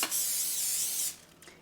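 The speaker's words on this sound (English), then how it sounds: "let's give it a spray" Cooking spray is blown onto the hot plates of a Cucina Pro corn dog maker in one close, loud hiss lasting about a second, followed by a quieter second puff.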